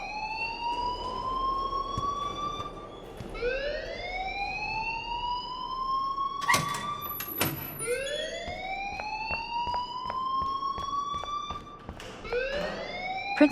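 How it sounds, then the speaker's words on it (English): A school fire alarm blares in the Life Is Strange video game, a loud electronic siren with rising, sweeping tones repeating roughly every three to four seconds, continuous and alone with no talking over it. "please turn off that alarm since that's your job"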